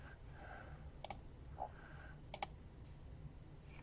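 Computer mouse clicking in a software sandbox: two quick pairs of crisp, faint clicks about a second apart over a steady low hum.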